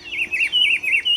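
A pitiguari (rufous-browed peppershrike) gives a rapid run of five or so rolling, repeated whistled notes, close and clear with nothing else audible.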